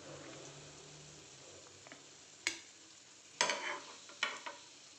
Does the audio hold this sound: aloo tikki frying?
yes